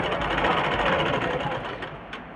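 Sewing machine stitching blouse fabric, a steady fast mechanical whir and chatter heard up close and running continuously, easing off slightly at the end.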